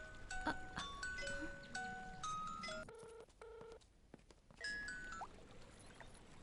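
A rapid series of telephone keypad tones beeps out in quick succession, followed by a couple of longer dual tones, with faint background noise, in a Hindi-dubbed action movie.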